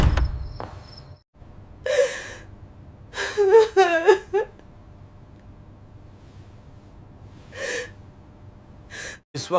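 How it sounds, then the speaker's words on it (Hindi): A daughter-in-law cries alone in her room at night, with scattered gasping sobs, whimpers and shaky breaths broken by quiet pauses, fairly close and with no talk. "इस वक्त बहू के कमरे से रोने की आवाज आ रही है।"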